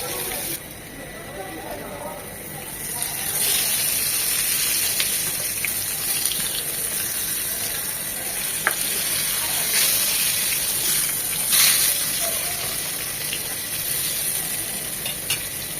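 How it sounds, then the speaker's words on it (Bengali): Eggplant pieces frying in soybean oil in a home kitchen pan sizzle continuously, with occasional stirring clatter and brief crackles rising above the steady hiss. "আমি তো সয়াবিন তেলে ভাজছি,"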